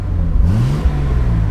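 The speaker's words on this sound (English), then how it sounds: "Exhaust sounds really good on this car." A Datsun 280ZX straight-six exhaust revs close by, a low throaty drone that climbs and falls in pitch with a quick blip partway through, loud and with no voices.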